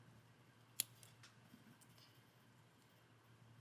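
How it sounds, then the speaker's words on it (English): Scissors give one sharp, quiet snip as they cut crochet yarn ends, followed by a few faint ticks against a low steady hum. There is no talking. "I'm just going to snip them."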